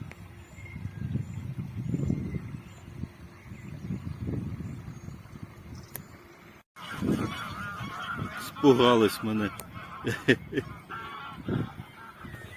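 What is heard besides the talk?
wild geese honking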